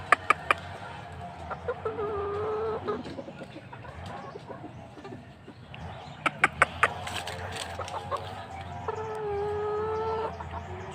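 Young Sweater Kelso gamecocks, about three months old, cluck and call nearby at a small breeder's yard, with sharp knocks and clicks mixed in and a few longer drawn-out calls.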